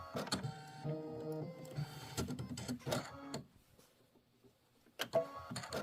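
Computerized embroidery machine for quilting stitches an ornate frame, a fast, rhythmic mechanical whirring that runs in bursts and then pauses briefly before resuming, close and moderately loud with no talking.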